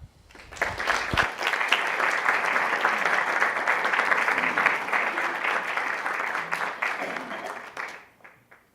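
An audience applauds to welcome lecturer Jane Carroll, a dense, steady wash of clapping from a large room that swells quickly, holds for several seconds and tapers off.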